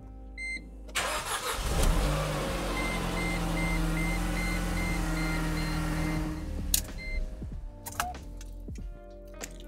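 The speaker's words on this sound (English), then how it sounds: "So we're gonna start the vehicle and it'll tell us how it's doing." A car engine cranks and starts during a battery cranking test with a jump starter and tester, then settles into a steady idle nearby, accompanied by a repeating electronic beep and brief clicks near the end.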